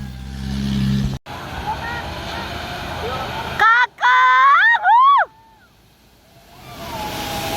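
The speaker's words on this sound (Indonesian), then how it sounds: "karena kalau nge-jeepnya teriak-teriak kayaknya ada yang kurang gitu" Passengers on a jeep ride around Yogyakarta let out several loud, high screams in a burst lasting under two seconds. Vehicle rumble runs underneath, and the clip ends in a quieter stretch.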